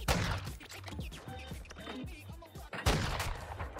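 Rapid, loud gunfire from Call of Duty: Modern Warfare II crackles in dense bursts, with one short lull before another heavy volley, along with game mechanism clatter.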